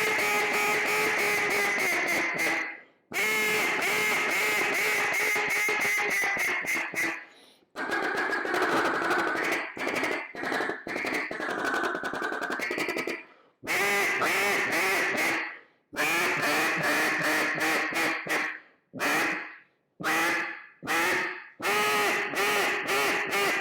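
A freshly reed-tuned duck call sounds in repeated quacking bursts and rapid chattering runs separated by short pauses, loud and close with no other sounds.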